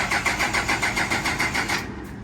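A Hino HO7D truck engine is cranked to start: a rapid, rattling churn of the starter and engine pulses that runs evenly for nearly two seconds, then cuts off and fades, close by and with no voices.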